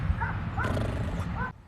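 A person's voice mimics a mysterious laundry room noise with short yelping, whining sounds, loud and close, breaking off abruptly at the end.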